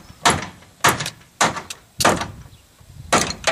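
A hammer bangs a hinge pin out of the front door of a Holden VY: six sharp metallic knocks spaced about half a second apart, loud and close, each ringing briefly before the next strike.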